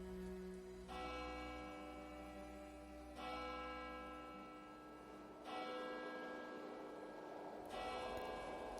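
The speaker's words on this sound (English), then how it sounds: "The church bells rang" Church bells ring out in slow, resonant strikes about every two seconds, each tone lingering and overlapping the next, with no voices.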